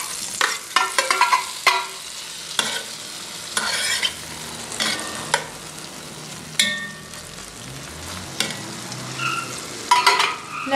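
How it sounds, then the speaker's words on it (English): Tomatoes hit a hot pan over a high flame for chop suey and fry with a steady sizzle, while occasional stirring clicks and scrapes sound up close, with no voices. "Now I'm going to add all the tomatoes."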